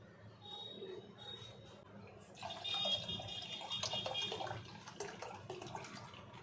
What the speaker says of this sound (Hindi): ठंडा पानी डाल दिया है मैंने